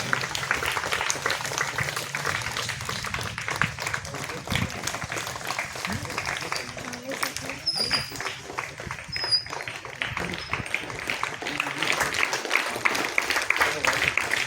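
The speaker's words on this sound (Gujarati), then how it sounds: "આપણે તાળીઓથી વધાવતા રહીએ" An audience at a village school Independence Day function claps in sustained applause, a dense patter of hands that stays steady and moderately loud from start to finish, with no distinct voices standing out.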